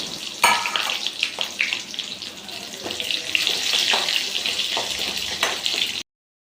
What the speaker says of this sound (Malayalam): ചെറിയ ഉള്ളി ഇട്ട് കൊടുക്കാം.